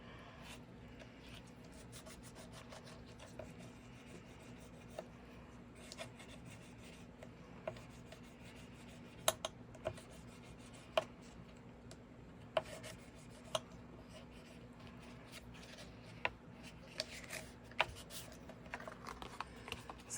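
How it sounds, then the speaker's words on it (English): Paper album pages are burnished by hand, a faint, continuous rubbing with soft scratches and occasional small ticks, close and quiet, with no voices. "And I'll usually turn my pages both ways and burnish."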